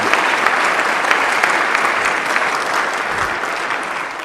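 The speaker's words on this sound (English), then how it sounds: "Can I please ask for a moment of applause for Brooke" An audience at the State of the State address breaks into sustained, loud applause honoring Brooke, a dense, even wash of clapping hands that holds steady throughout, with no voices over it.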